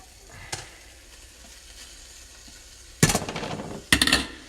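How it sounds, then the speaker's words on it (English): Zucchini noodles hit a pan of hot meat sauce, setting off two loud, bursting sizzles after a quiet simmer, the second following about a second after the first. "now I'm gonna just drop the noodles in"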